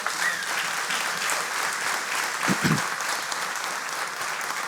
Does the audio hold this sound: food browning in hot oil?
no